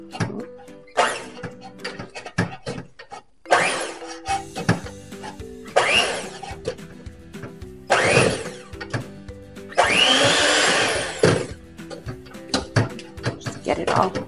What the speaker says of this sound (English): So we're going to start mixing it around.